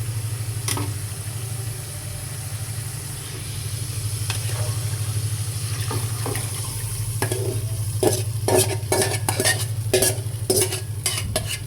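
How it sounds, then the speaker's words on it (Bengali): Prawns fried and stirred in a pan: a steady sizzle runs beneath a low constant hum, with scraping stirs that come more often toward the end, close and fairly loud, and no one talking. "চিংড়ি মাছটা কষিয়ে ভালোভাবে কষিয়ে নেব"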